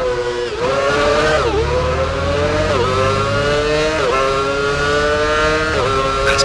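Formula One engine from the F1 Championship Edition game screaming down a 300 km/h straight toward turn 11, pitch rising in steady sweeps broken by about five gear-change dips; loud, close and unbroken, no voices.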